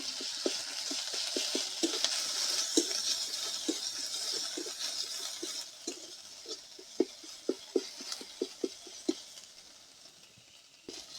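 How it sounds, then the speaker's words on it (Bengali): Ginger garlic paste frying with onions in a pan, a soft continuous sizzle with a run of quick, evenly spaced stirring scrapes and taps that thin out toward the end; no talking. "এবার আদা রসুন বাটা দিয়ে দেবো ভালো করে ভেজে নেব"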